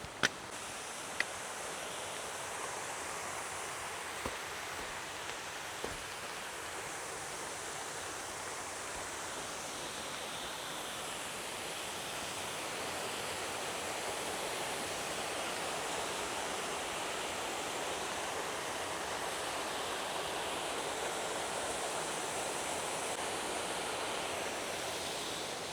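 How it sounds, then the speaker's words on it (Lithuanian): A waterfall roars as a steady, dense wash of rushing water, unbroken for the whole stretch and swelling slightly louder in the second half, with a few faint knocks early on. "tu pasižiūrėk, koks krioklys ten."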